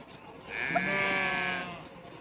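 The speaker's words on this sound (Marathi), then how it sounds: "अशा प्रकारे हे मेंढ्या आहेत हे बघा" A single sheep bleats once, a clear, wavering cry lasting about a second, close by.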